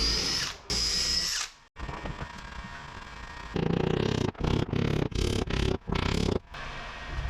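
A power drill drives screws into the wooden joinery of a boat under restoration, sounding as a loud, close whine that starts and stops repeatedly in short bursts with brief pauses between them.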